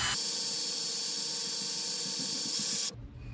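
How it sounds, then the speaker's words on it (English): A power drill with emery cloth scuffs the surface of a drag slick tyre, a loud steady high whine and hiss lasting about three seconds before cutting off abruptly, close and alone. "run the drill and scuff that slick, get the shine off there and get some wear on it"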